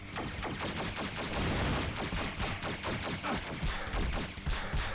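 Constant rapid-fire shots in the Saturn game Iron Man and X-O Manowar in Heavy Metal. The staccato bursts run almost without a break over steady game noise, fairly loud, and nobody speaks.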